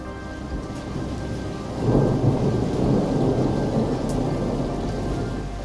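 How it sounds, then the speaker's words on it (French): A spring thunderstorm in the mountains brings steady rain and a deep rolling thunder rumble that swells about two seconds in and lingers under the continuous patter. "Puis, la saison des orages est arrivée."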